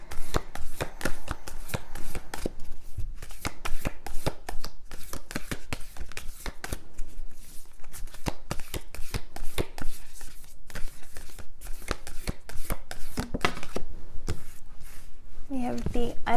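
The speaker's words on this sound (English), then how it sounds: "watch the shuffling and that makes your energy even more involved" Rapid, crisp riffling of tarot cards repeats steadily throughout, a close, continuous papery shuffling with a brief murmur near the end.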